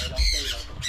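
Fighting cocks on an integrated farm squawk in alarm as someone passes, a short, loud, harsh cry close by with no talk over it.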